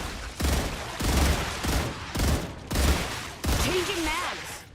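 Gunfire in the video game StarRupture rings out in heavy, evenly spaced bursts about once a second, loud and close, with a brief warbling tone near the end.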